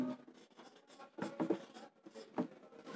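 Pen or marker scratching on a board during a Marathi language lesson, a few quick irregular stroke bursts, close and fairly quiet with no talk.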